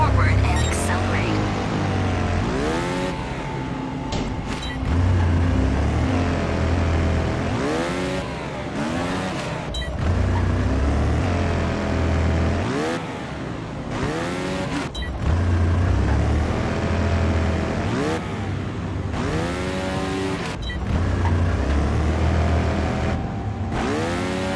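A trials motorbike in the Trials Fusion video game revs and accelerates hard up a steep hill, its engine whining in repeated rising and falling sweeps, loud and continuous, while a voice speaks at times.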